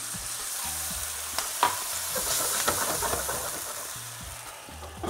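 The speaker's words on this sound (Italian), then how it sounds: "rialzo la fiamma e aggiungo il vino bianco" Chicken legs seasoned with paprika sizzle steadily in a hot pan after white wine is poured in, a continuous close frying hiss with a few pops and no talking.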